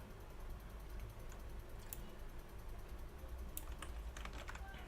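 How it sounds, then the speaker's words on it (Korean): Fast, light clicking of a computer keyboard as a URL is typed in, steady and fairly close over a low background hum, with no talking. "저는 임의로 예를 들어서 입력을 하겠습니다."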